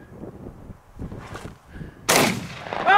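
A single loud shotgun blast rings out at a trap target outdoors, sharp and close, following quieter rustling and movement sounds.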